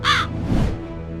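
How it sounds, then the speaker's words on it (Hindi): A single sharp crow caw comes first, followed by a short, muffled rustle or thud, then quiet. "ये कौवा बार बार कह रहा है"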